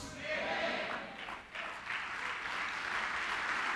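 A church congregation applauds during a sermon, a broad sustained wash of clapping that dips briefly in the middle before swelling back, with no voice over it.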